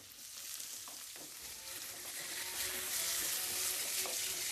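Small shallots sauté in a pan for a Kerala puli inji, giving a steady crackling sizzle that grows a little louder toward the end, with a few faint clinks along the way.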